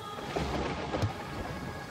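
A low rumble of thunder rolls beneath steady rain, brief and heavy, filling the background without any voices.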